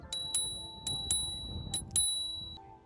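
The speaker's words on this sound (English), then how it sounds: "And up top, they have a bell." The handlebar bell on an Apollo Explore 2.0 electric scooter rings in six bright, close pings, quick pairs spaced across a few seconds with a ringing tone lingering after the last.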